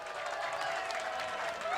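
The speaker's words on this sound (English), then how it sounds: "Listen to this crowd." A bowling crowd at a televised match cheers and applauds, a loud continuous roar of clapping and shouting filling the whole moment.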